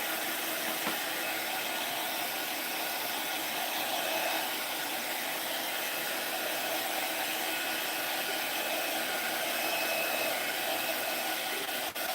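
A hair dryer blows a steady, faint whooshing hiss over wet Mod Podge on handmade crafts, running continuously without pause and with no talking.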